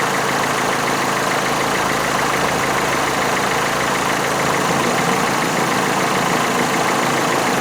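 A car engine idles steadily during a start/stop battery and charging test, a constant loud, even hum and rumble that runs throughout with no talking.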